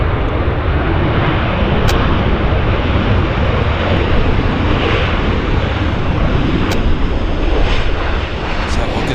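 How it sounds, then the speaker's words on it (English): A United airliner glides down to land at Vancouver airport (YVR), its engines giving a loud, continuous broadband roar that stays constant across the whole stretch. "Here's our United, gently gliding down"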